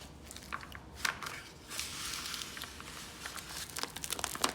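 Vinyl stencil pieces are peeled up and pressed down in a quiet room, giving soft crinkling, crackling and sticky tearing sounds in a loose repeating rhythm, close to the microphone, with no voices.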